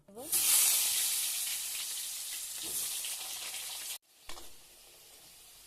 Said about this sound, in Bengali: এখন আমি আলু ভেজে নেব।